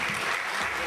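A short burst of dense audience applause at an award and recognition ceremony, steady, close and loud through the whole moment.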